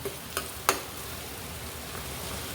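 Onions sizzle in a pan for chana masala, a soft steady frying hiss with a few sharp stirring clicks near the start, close and fairly quiet, no voices.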